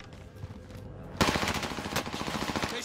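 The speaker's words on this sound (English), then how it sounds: "They're shooting me!" Gunfire in Call of Duty Warzone: after a quiet opening, a loud, sudden burst of rapid automatic fire that keeps rattling steadily to the end, with no talking.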